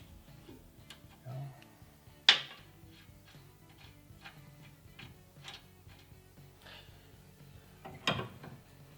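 A ratchet clicks in quick, even ticking runs while loosening front suspension nuts on a Dodge Challenger, close and faint, broken by two sharper metallic clanks.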